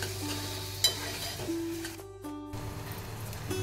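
Chopped onion frying in a pan for chana masala, sizzling steadily while a utensil stirs it with soft scraping clicks; one sharp knock near the start and a brief quieter dip midway.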